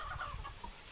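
Desi hens on a free-range poultry farm cluck in quick, soft bursts close by, a brief flurry of low calls.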